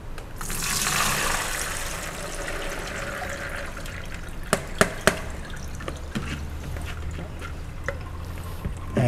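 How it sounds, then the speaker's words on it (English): Soaked soybeans washed in water for making tempeh, sloshing and trickling with a few sharp drips and clicks midway, close and fairly loud, with no talk. "wash the soybean 3 times."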